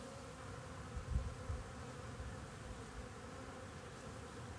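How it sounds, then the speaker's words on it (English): A soft, steady buzzing of many honeybees hovering close together in front of a hive entrance in December, a continuous droning hum with no voices. "these bees are doing figure eights and hovering in front of the hive entrance"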